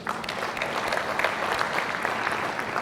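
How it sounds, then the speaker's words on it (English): An audience at a formal conference session applauds steadily, a dense, even patter of many hands clapping at moderate volume for the whole stretch. "I want you to join me again in applauding the two very prominent speakers."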